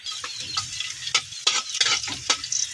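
Garlic sizzles and fries in a little oil in a pan while being stirred with a utensil, crackling steadily with sharper scrape bursts, the start of cooking pancit canton.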